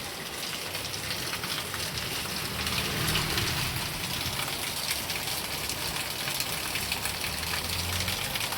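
Steady, close rain pours down without pause while a pet parrot named Happy bathes in it, a dense continuous patter on the surface with a low engine-like hum faintly underneath.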